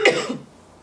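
One short, sharp cough up close, quickly fading to quiet.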